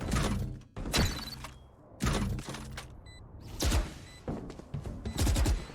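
Sharp bursts of gunfire from the tactical shooter Valorant during a pro esports match, arriving in several distinct loud volleys separated by short pauses, with no talk over them.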